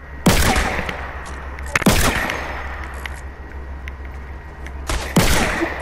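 Sniper rifle shots in the video game Fortnite, four loud sharp cracks spaced over a few seconds, each followed by a brief ringing tail, with no talking.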